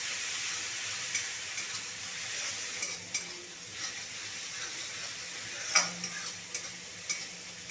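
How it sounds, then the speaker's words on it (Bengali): Ground spice paste of cumin, coriander, turmeric and Kashmiri chilli powders frying in oil while being stirred for a jackfruit curry, a steady close sizzle with scattered scrapes of the spoon against the pan. "মশলাটা দেখুন ভালো করে কষানো হয়ে গেছে, তেল ছেড়ে গেছে"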